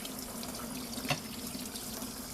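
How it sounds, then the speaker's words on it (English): Water runs steadily from a salon sink tap while hair is rinsed, a soft, even hiss close by with one small splash partway through, and no talk. "we will go back and lightly rinse the hair again"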